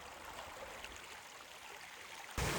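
Small waterfall near the Green Monster Icefall, a steady, moderately distant rush of falling water with a broadband hiss throughout, ending in a sudden louder burst of noise; no talking.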